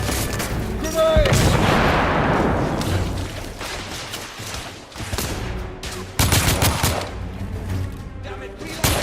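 Grenade blast amid gunfire in The Order: 1886, a heavy boom rolling into a long decaying rumble, followed by sharp shot cracks and bursts of fire, with a shouted voice early on.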